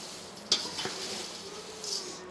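Atukula mixture being stirred in a hot pan, with a sharp clink of a utensil against the metal near the start, one more tap, then a soft continuous sizzle and scraping, close and fairly quiet.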